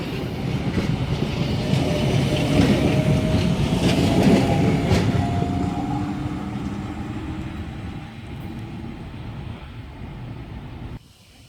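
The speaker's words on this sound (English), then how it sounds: "S89 now departing platform number 1, Clyde service." A Sydney S-set suburban train, S89, pulls out of platform 1, its low rumble and motor whine building and then fading as it moves away, with faint clatter over the rails and no voices.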